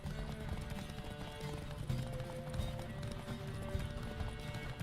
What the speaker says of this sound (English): This Zerikanian horse is pretty good, really.